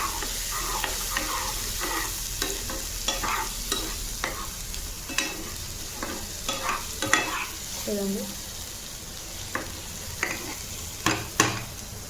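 Paneer curry with masala paste stirred in a pan: a continuous soft sizzle under repeated scraping strokes of a spoon, with occasional light taps, near and moderately loud.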